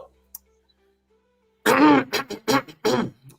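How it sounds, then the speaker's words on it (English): A person clears their throat with a few rough, guttural rasps after a brief near-silence, close to the mic. "let me clear my throat."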